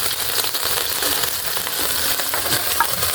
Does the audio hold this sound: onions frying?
yes